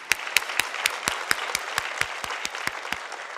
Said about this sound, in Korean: 한 해 동안 큰 은혜를 주신 하나님께 영광의 박수 드리겠습니다.